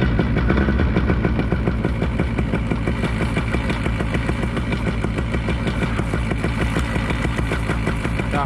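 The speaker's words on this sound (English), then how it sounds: "Hopefully we can get this motor started again." A paramotor engine running steadily after starting, a continuous rapid buzzing drone at constant loudness throughout, close by with no voices.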